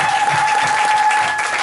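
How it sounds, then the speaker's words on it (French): Congregation in a church claps loudly and steadily in a short, dense burst of applause, close and continuous, with a faint sustained tone under it. "Donnons encore une acclamation"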